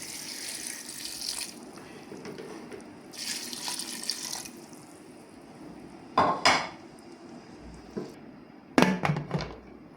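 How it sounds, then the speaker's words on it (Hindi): Water pours into a cooking pot in two bursts of rushing, splashing flow, followed later by a couple of sharp metallic clanks of the pot, while making chicken shami kebab. "मैं इसके अंदर डालूंगी पानी का"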